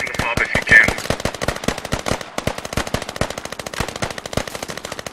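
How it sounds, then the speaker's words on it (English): Rapid automatic gunfire rattles in the Squad video game, a long dense string of sharp shots in quick rhythm, close and loud, with a voice briefly heard under it. "I think someone's shooting from the fob."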